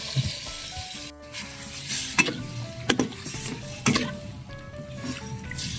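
Meat sizzles steadily as it fries in oil in a pan, with stirring scrapes and occasional clinks of a utensil against the pot, close by.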